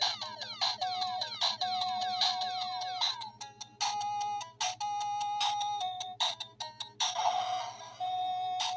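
Chiptune NES game music plays from a cheap handheld console turned up to full volume, with bright, rapid beeping melody lines over a steady buzzing hum, loud and close, with no talking.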